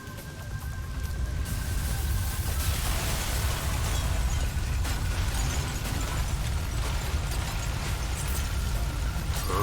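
Explosions and crashing debris from a spaceship going down in the vehicular combat game Hard Truck Apocalypse, a dense, loud, continuous roar of blasts and mechanical clatter with no talk.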